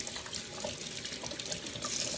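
Tap water runs steadily into a sink while hands are wetted before washing, a close, even rushing hiss with no one speaking.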